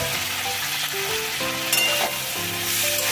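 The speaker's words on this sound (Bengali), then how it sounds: "আলুটা একটু ভালো করে ভেজে নিই।" Potato pieces frying in oil in a pan while being stirred, a steady sizzle with clinks and scrapes of the utensil against the pan, close and continuous.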